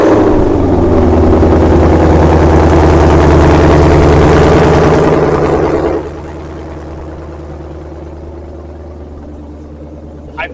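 A car with a red push-button start at a motorsports ranch fires up with a loud, deep engine roar that settles after several seconds into a quieter, steady low idle.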